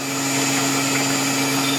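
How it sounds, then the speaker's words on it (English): Steady, loud mechanical whine of a Tormach PCNC CNC mill drilling a row of holes in a vintage part, a constant tonal hum with no pauses and no voices. "And here we are drilling the second row of holes."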